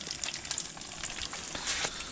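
A fish head and tail, freshly caught while winter fishing, fry in a pan at an overnight tent camp, giving a close, steady crackling sizzle with scattered pops and no talking.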